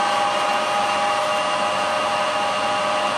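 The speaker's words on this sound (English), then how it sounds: "coolant pump on." A coolant pump on a machining lathe cutting stainless steel hums and hisses in a constant, steady broadband whoosh that stays at the same level throughout.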